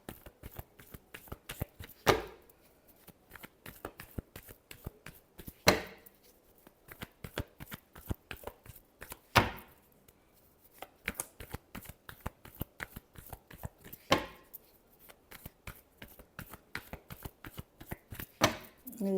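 A deck of tarot cards is shuffled close by in repeated bursts, each riffle lasting a second or two and coming every few seconds, with soft card handling in between.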